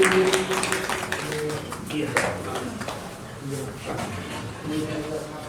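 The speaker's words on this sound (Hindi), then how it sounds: "सभी से निवेदन की तालियां बजाकर सम्मान में" An audience at a Jain monks' religious discourse claps in honour, a dense, steady clatter of many hands running throughout with voices mixed in underneath.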